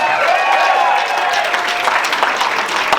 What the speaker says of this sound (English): So let's clap it up for that now.